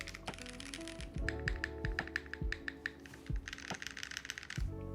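Rapid clacky keystrokes on a mechanical keyboard, typed in quick uneven bursts, close and crisp with a faint hum underneath.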